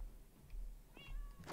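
Cats meow in the Minecraft video game, giving two or three short, faint mews over a soft low ambient hum, with a brighter cry at the end.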